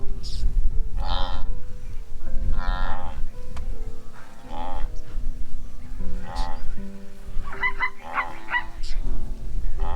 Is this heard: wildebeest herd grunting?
yes